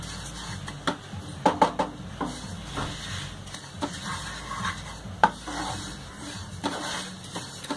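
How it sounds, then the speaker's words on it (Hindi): About a bowl of sesame seeds dry-roasting in a pan while being stirred quickly, with scattered light scraping and tapping clicks at an irregular rhythm over a faint steady background. "भूनते वक्त आपको जल्दी से इसको हिलाना है ताकि तिल जल ना जाए"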